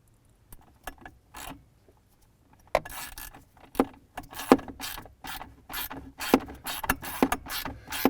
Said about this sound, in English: I'm going to get one of the upper bolts put in first.